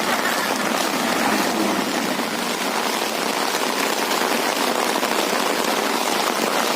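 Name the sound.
heavy rain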